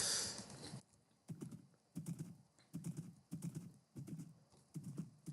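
Skeleton horse hooves in Minecraft clop in a steady rhythm of paired thuds about every half second, close and clear, after a short burst of hiss at the start.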